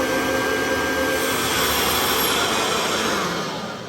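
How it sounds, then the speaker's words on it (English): A 1987 Kirby Heritage 2 vacuum cleaner motor roars at full speed, a loud, steady whine of motor and impeller that stays constant and close throughout, easing off slightly at the very end. "the motor ramps up to full speed"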